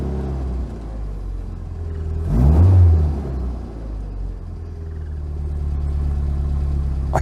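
A classic Mini Clubman engine running on a drive, a low steady rumble that swells briefly as the car accelerates, then settles back to an even drone, with no voices.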